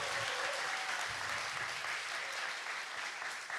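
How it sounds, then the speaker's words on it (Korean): A studio audience on a Korean talk show claps for a guest company CEO, a short burst of dense, steady applause that stays even and fairly soft throughout, with no one speaking over it. "여러분 큰 박수 한번 주시죠"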